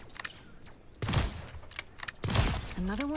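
Gunfire from Black Widow's ability in the Marvel Rivals video game comes as two sharp, heavy bursts about a second apart, loud and close over a faint clicking game background.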